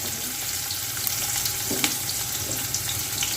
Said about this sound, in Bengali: পেঁয়াজের সাথে চিতুইটা ভালো করে ভাজবো